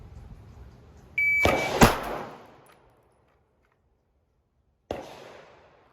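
Two sharp handgun shots fired at a target on a shooting range, close and loud, about half a second apart, with a third report a few seconds later after a silent pause.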